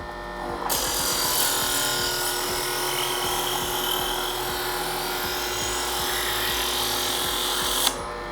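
A Vevor electric knife sharpener grinds a blade in one continuous, even rasping pull of about seven seconds, up close and alone, cutting off abruptly.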